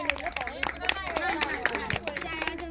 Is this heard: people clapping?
yes